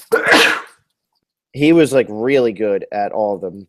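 A single loud, close sneeze bursts out at the start, followed after a short pause by someone talking.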